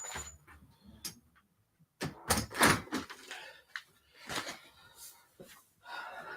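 A front door is opened and then closed indoors, giving a few scattered knocks and thuds, fairly faint and separated by quiet gaps.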